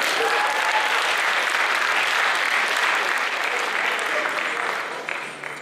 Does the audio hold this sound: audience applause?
yes